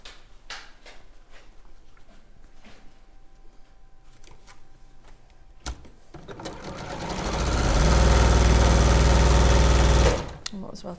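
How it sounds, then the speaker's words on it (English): A sewing machine chain-pieces fabric squares, starting with a light clack after quiet talk and building into a loud, steady whirring run of stitching that stops abruptly near the end. "I might as well chain piece these while I'm here."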